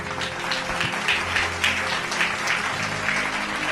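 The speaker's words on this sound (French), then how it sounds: "Acclame pour Jésus." A church congregation applauds in a large room, a continuous patter of many hands clapping at a steady level, with faint voices mixed in.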